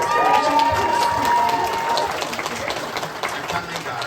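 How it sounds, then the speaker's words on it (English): An audience at the Spooky Empire horror convention claps and cheers in a sustained round of applause, with a high whistle early on, gradually thinning out toward the end. "Yeah, a big round of applause."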